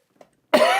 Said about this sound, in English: Thank God I have a cough button.